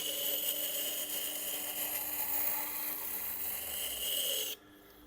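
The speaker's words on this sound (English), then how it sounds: "I use the side of that wheel in order to get a bevel on the side of the knife up in that reverse curve." A Shun boning knife, double curved, is ground against the side of a Tormek sharpening wheel, giving a steady close rasping hiss that keeps going for several seconds and stops abruptly near the end.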